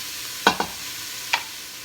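Mushrooms and onions cooking in a pan, a low steady sizzle broken by three short clinks or scrapes of a utensil, close with no talk.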